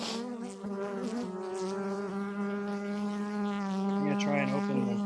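Honeybees buzz steadily and close while a beekeeper opens two hives, one strong and one dying, prying apart jammed frames. The droning hum is continuous and dense throughout, with pitch wavering slightly as bees move about.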